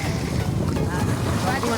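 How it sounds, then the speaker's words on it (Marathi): A boat rocks on the open sea near Alibag, with a loud, steady rush of wind and water battering the microphone throughout, and faint voices are buried in the roar. "फायनली आम्ही बोटमध्ये बसलेलो आहोत आणि खूप बोट हलते"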